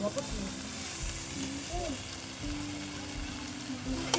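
Vegetables fry and sizzle in a pan for a chorchori with dried fish and new potatoes, the crackle steady and close, with brief scraping stirs and a faint voice in the background.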